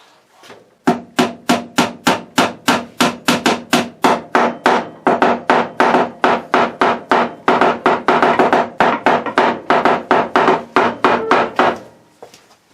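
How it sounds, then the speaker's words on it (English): A small hammer taps a little nail into wood, dozens of quick sharp knocks in a steady even rhythm, close and loud, running without pause for about eleven seconds. "A little diddy hammer for a little diddy nail."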